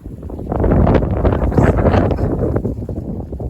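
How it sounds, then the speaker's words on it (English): Gusty wind in the Simpson Desert buffets the microphone in loud, rumbling bursts that rise and fade over a few seconds, with no talking. "It's just a bit windy"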